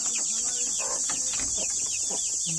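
A group of chickens brought into a coop clucking and chattering close by, several birds calling in irregular overlapping bursts over a steady high background hiss.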